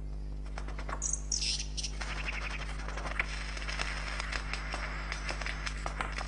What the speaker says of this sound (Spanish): Estas llamadas de clan han pasado de una generación de aves lira a otra.